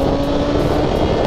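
A Honda CBR 1000RR motorcycle engine heard up close while riding, giving a loud, steady, continuous roar with no pauses.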